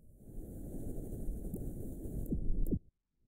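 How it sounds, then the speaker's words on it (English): A ship's thruster in the video game Scrap Mechanic gives a steady rushing, humming roar for under three seconds, rising slightly before cutting off abruptly into silence. "It sounds like a thruster."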